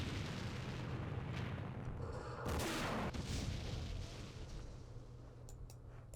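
Anti-aircraft machine gun fire and booming artillery in Campaign Series Vietnam, a dense rumbling barrage with a sharper blast partway through before fading slightly.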